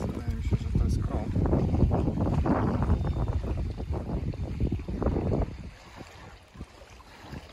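Strong wind buffets the microphone in a steady, roaring rush while standing in lake water in Masuria, with some water movement beneath, easing off toward the end.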